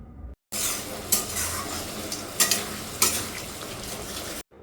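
Spice masala sautéing in oil for a Bengali bhola fish curry, a continuous sizzle broken by several bright scraping stirs of a spoon against the pan, close and without talk.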